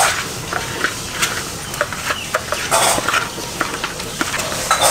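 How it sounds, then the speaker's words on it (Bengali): Fish pieces being mixed by hand with salt and turmeric, a continuous close squelching and rubbing with irregular soft wet clicks and brief scrapes, no voices. "আমার মাছ মাখা হয়ে গেছে"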